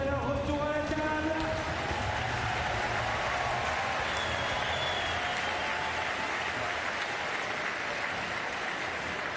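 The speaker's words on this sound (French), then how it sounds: "Allez, merci d'applaudir les athlètes à leur retour à la table." A crowd at a Paris 2024 para table tennis standing singles gold medal match applauds the athletes, a sustained, even wash of clapping that fills the whole stretch over a faint voice at the start.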